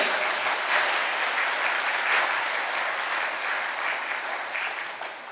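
A church congregation clapping together in praise of the Lord, a dense, sustained wash of applause filling the hall at steady loudness, fading slightly at the end.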